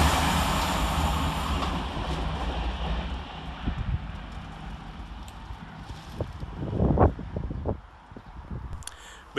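A Class 385 electric multiple unit, a pair of coupled sets, runs through Drem railway station, giving a steady broad rumble with rail clatter and a few louder knocks near the end, plus some wind noise.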